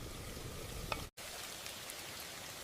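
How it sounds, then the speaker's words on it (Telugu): Onions and whole spices fry in heated oil and ghee for chicken biryani, giving a steady, even sizzle throughout with one faint tick and a brief cut to silence midway. "ముందుగా నూనె, నెయ్యి వేడిచేసి మసాలా దినుసులు, ఉల్లిపాయలు వేయిద్దాం"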